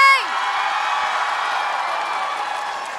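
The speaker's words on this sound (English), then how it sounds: "we have another round of applause for 10 years of streaming for Hermitcraft SMP!" Audience at a TwitchCon panel celebrating ten years of Hermitcraft SMP, with a dense roar of cheering and applause that swells in abruptly and holds steady, loud and close.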